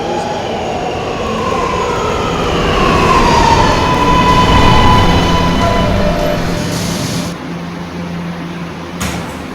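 An R211 subway train running as an R local at Gates Avenue station roars steadily with rumbling wheels and rising whining motor tones, loud and close, then a sharp shift as it slows.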